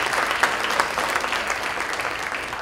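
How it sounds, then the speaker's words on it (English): Audience applause fills a conference hall at a Tanzanian diaspora community gathering: dense, steady clapping from many hands, fairly close and loud, with no talking over it. "So I think we need to clap our hands just for that."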